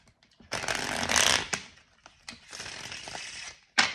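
Tarot cards are shuffled quickly in a few short riffling bursts, close and crisp, with small taps and pauses between them.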